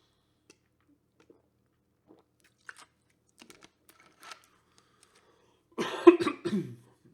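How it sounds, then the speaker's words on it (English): After quiet with a few faint clicks and taps, a person coughs in a short harsh burst close by. "I'm going to take a drink real quick, see if this cough subsides."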